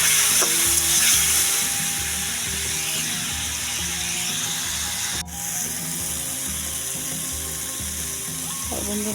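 Spice masala frying in a pan for egg curry, a steady close sizzle with a busy broadband hiss, mixed with some mechanical ratcheting clicks and a tonal hum running underneath.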